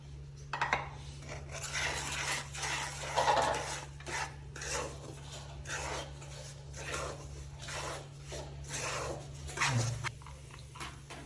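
Urad flour roasting in hot ghee in a pan, stirred with a spoon: repeated scraping and rasping strokes against the metal with faint sizzling, steady and close, with no talking.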